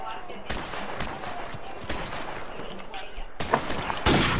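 Gunfire in a shooter video game, scattered sharp shots and bursts crackling throughout and growing denser at the end, with players talking over it.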